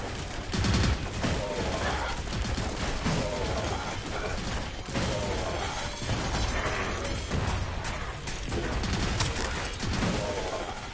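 Dense, continuous gunfire from bullets in the VR video game Evasion, rapid shots and mechanical clatter layered with game music and effects, loud and busy throughout.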